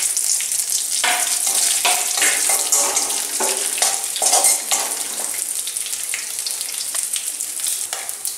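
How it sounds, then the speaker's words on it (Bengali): Dried red chillies, panch phoron and mustard seeds hit hot oil for tempering, giving a loud, close, continuous crackling sizzle dotted with sharp pops and spits throughout. "এবার আমি গরম তেলে ফোড়নের জন্য রাখা শুকনো লঙ্কা, 5 ফোড়ন আর সর্ষেগুলো দিয়ে দিলাম"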